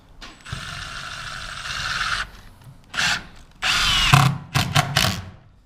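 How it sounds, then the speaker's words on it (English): Power drill driving screws into AdvanTech subfloor in a garage build, several short whirring bursts that stop and start, each ending in a strained grind as the screw seats, close and alone. "I'm going to place it a little bit behind it, dead center"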